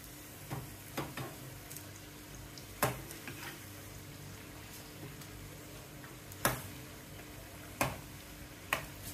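Mirchi bajji, chili fritters, frying in hot oil: a steady close sizzle with sharp crackling pops scattered throughout.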